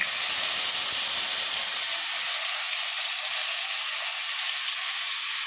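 Boiled, drained taro greens hit a hot pan for a fish-head and taro-leaf dish, giving a loud, steady steam hiss and sizzle that starts strong and settles into a continuous wash, with no talking.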